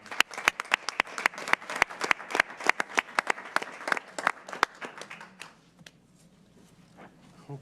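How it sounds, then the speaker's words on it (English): A round of applause at a school board meeting, a small group clapping steadily for several seconds before it thins out and fades into room quiet with faint talk. "I want a round of applause from all of us to thank you so much."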